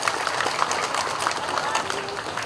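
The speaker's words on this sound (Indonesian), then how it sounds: "Tepuk tangan untuk Pak Menteri." Crowd applauding for a government minister at a street naming ceremony, a dense, steady spell of clapping filling the whole moment.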